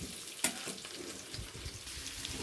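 Potatoes frying in oil in a pan; a soft, steady sizzle close by with a brief sharp clink of utensil early on and light stirring sounds, quiet and without speech.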